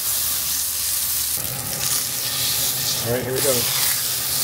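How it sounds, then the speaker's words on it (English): A steak sears in a cast iron pan, giving a constant loud sizzle and hiss throughout. A louder spatter swells as the meat settles, and someone speaks briefly over the frying. "I'm gonna be searing this with a cast iron pan"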